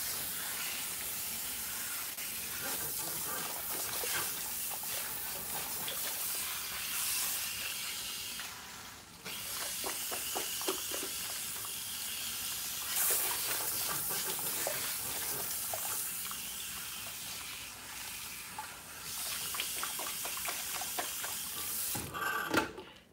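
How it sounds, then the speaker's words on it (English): Warm water running and splashing while rinsing hair at a salon shampoo sink, a continuous hiss with brief pauses where the flow is interrupted, close and moderately quiet. "So I'm still using warm water to rinse."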